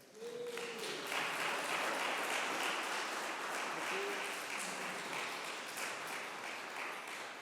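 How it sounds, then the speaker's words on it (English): An audience at a comics lecture applauds steadily for several seconds, with dense, even clapping that fades slightly toward the end and a brief voice heard near the start. "So please give an applause for Paul Gravett."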